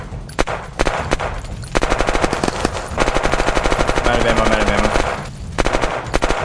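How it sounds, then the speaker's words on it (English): Gunfire in the video game Unturned, including a scoped Ural: loud rapid automatic bursts in several long strings separated by short pauses, close and dominant throughout. "I hear his guns, by the way."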